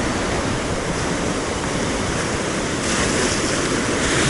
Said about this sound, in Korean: 여긴 뭐 그냥 파도가 아예 직격탄으로 다 들어오고 있어요